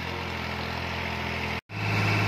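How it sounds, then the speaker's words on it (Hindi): A New Holland 4x4 tractor engine runs under heavy load with a steady, dense droning roar. It cuts out for an instant, then returns slightly louder and deeper. "अभी ट्रैक्टर 100 RPM तोड़ रहा है, वो भी जने हैवी लोड पे"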